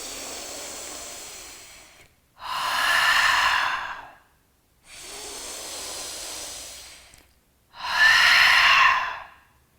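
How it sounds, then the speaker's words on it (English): Two slow breathing cycles during a throat chakra yoga class, each a soft hissing nasal inhale followed by a louder, breathy exhale through the mouth, close and alone without talk. "we're going to take 2 breaths where we inhale in through the nose and exhale audibly out of the mouth"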